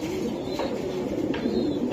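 Racing pigeons from a club loft, offered for sale with eggs, coo steadily and fairly loudly up close, their low rolling calls layered over faint higher chirps. Nobody talks.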